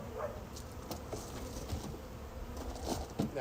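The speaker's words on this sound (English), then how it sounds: "more bees are getting in this syrup" Honey bees buzz around an open container of syrup during a February hive inspection, a faint, steady hum with small ticks and taps scattered through it.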